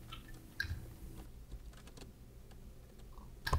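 Someone types on a gaming computer keyboard during a Minecraft session, with scattered, irregular key clicks and a few sharper taps, close and fairly quiet, with no talking.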